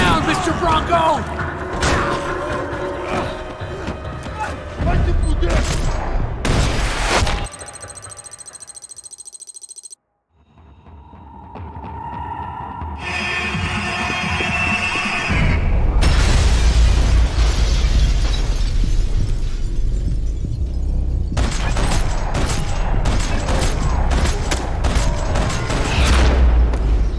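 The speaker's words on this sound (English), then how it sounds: "Another parking lot rattling with gunfire." Loud bursts of gunfire and explosions in the video game Max Payne 3, with stretches of music and a quieter lull in between.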